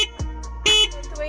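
Horn of a battery-powered electric rickshaw delivery van gives two short electronic beeps close by, the second longer and louder, over a steady faint hum.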